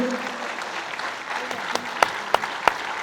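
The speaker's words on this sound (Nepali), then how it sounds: "म यस कार्यक्रमका प्रमुख अतिथि सम्माननीय प्रधानमन्त्री केपी शर्मा ओलीज्यूलाई सबैको जोरदार तालीको साथमा अनुरोध गर्दछु" An audience applauds to welcome Prime Minister KP Sharma Oli at a formal event, a steady wash of clapping with a few sharp, louder claps standing out near the end.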